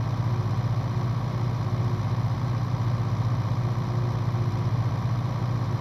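A tractor engine in Farming Simulator 19, driving on gravel, holds a steady low rumbling drone throughout with no change in pace and no talk.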